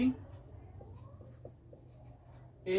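Pen writing out HTML code on paper during an ICT lesson, a soft continuous scratchy rustle under a low room hum, with brief louder bumps at the start and end.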